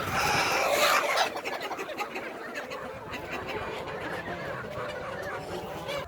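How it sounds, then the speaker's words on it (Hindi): Desi hens cluck and squawk in a dense, overlapping chorus inside a village poultry farm, busy and close, with a louder flurry at the start that settles into continuous clucking. "बहुत सारी मुर्गियाँ अंदर"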